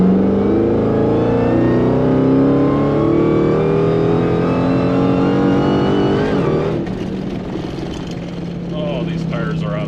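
A 2000-horsepower Trackhawk accelerates at full throttle on a road pull, its engine note climbing loud and continuous for several seconds before easing off into a lower drone near the end.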